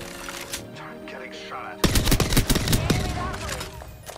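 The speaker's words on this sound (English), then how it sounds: "They're shooting at me." Rapid bursts of gunfire in the battle-royale shooter Apex Legends erupt loudly after a quieter stretch with game sounds, dense overlapping shots continuing to the end.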